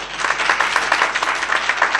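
A seated audience claps at a gathering, a brief steady wash of many hands with slight rhythmic pulses, no voices over it.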